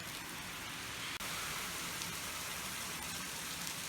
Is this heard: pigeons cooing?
no